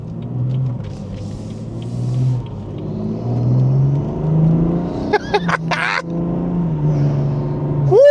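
BMW 440i fitted with an MST intake, engine droning and revving with rising and falling pitch, sharp bursts near the end and a final rev climbing, close and loud.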